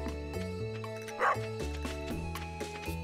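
Dog barking in the farming game Stardew Valley, a short yip-like bark rising above steady game music, brief and fairly quiet.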